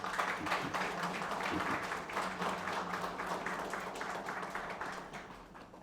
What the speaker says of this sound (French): Un chaud applaudissement à votre endroit.